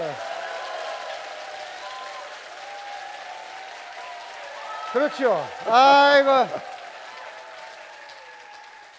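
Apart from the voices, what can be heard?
audience applause at a talk concert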